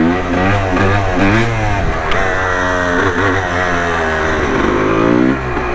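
A motorcycle revs close by in first gear during slow wheelie attempts, its engine rising and falling in repeated throttle blips with a loud, harmonic drone throughout.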